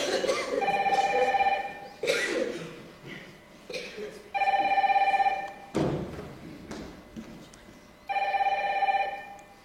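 Office telephone ringing in repeated electronic bursts, three clear rings spaced a few seconds apart, with thumps and a short exchange of voices between them.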